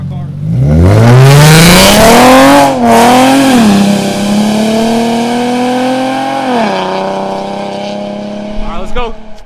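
Infiniti G35 engine revving with new side splitter exhaust, a loud close run of rising revs that climbs sharply, eases back, holds a steady drone, then dips again before fading into faint chatter.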